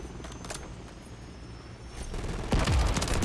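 Call of Duty MW3 submachine gun fire, a burst of rapid shots that rings out loud near the end after a quieter stretch of game ambience, with no talk.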